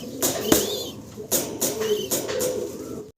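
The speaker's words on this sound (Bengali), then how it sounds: "ব্লেজার কবুতর খুব সুন্দর, অ্যান্ডোলোজিয়ান থেকে আসে।" Blazer pigeons, a fancy breed from Andalusian stock, coo in soft rolling phrases with occasional sharp clicks and brief wing flutters, heard close against a quiet room.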